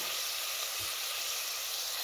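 Chicken sizzles in lightly heated oil with a steady, close hiss that holds even throughout, and no voices are heard.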